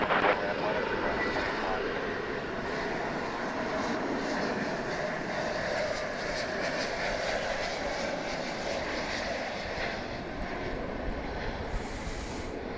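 A plane at DFW Airport at night, a distant steady jet engine roar persisting throughout at low level, with a faint voice in the background.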